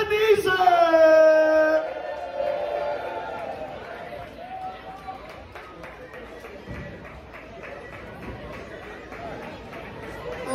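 A large crowd at a Rock and Roll Playhouse family concert at Brooklyn Bowl cheers and whoops to welcome the band, loudest at the start and then settling into steady chatter and scattered calls.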